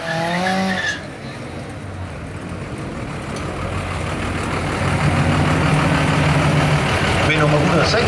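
Drag racing cars roar down the strip at a Danish European drag racing meet, a loud sustained engine howl building steadily across the run while an announcer talks over it.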